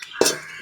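A utensil stirs bonda batter in a metal vessel, giving one short clinking scrape that fades out, close and fairly loud.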